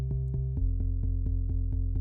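Sub bass boosted by the Infinite Bass plugin for extra low end, pulsing in even eighth notes and dropping to a lower note partway through, deep and full beneath sustained chords, no voices.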